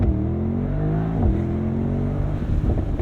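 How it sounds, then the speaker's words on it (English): A 2023 Mercedes-AMG SL 63 launches hard from a standstill, its engine roaring loudly and continuously up through the revs with a brief dip at a gear change, heard close from inside the cabin. "I'm going to hold my foot hard on the brake, pin the throttle, and then let it go."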